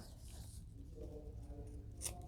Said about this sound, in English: We're going to cut this off.